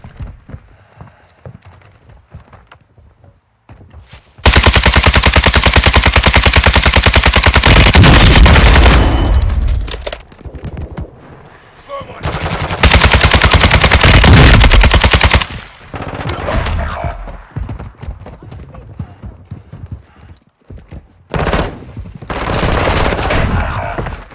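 Automatic gunfire in Call of Duty Warzone, loud sustained bursts: one long burst of several seconds, a second burst, then shorter intermittent volleys, with brief quieter stretches between.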